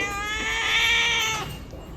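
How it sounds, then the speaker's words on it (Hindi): A single drawn-out cat meow, close and loud, holding a steady whining tone for over a second before trailing off. "हाँ क्या कैमरे पे म्याऊं म्याऊं कर रहे हो?"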